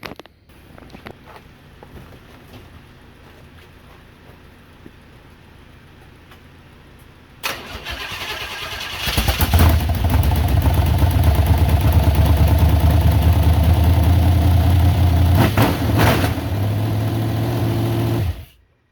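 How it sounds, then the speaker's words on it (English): A small-block V8 in a race car build cranks, catches after a quiet stretch with a few clicks, and settles into a loud, lumpy, rumbling idle close by that runs for about ten seconds before cutting off abruptly. "Angry sounding little small block."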